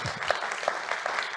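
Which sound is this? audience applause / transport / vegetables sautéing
audience applause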